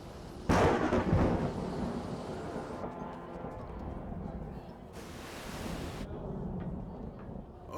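An approaching thunderstorm brings a loud, sudden crack and rumble of thunder, followed by steady rain and wind noise with a second bright surge of rushing rain partway through.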